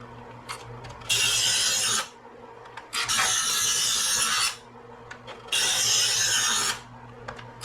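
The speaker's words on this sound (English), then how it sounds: "It's sharp, but it's not been run through this knife sharpener. So we're going to do it right now." A kitchen knife drawn through a knife sharpener gives three loud, hissing rasps of about a second or more each, separated by short pauses, with no talking.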